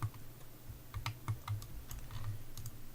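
A Sim types on a computer keyboard in The Sims 4, giving quick irregular clicks and taps close up over a low background hum.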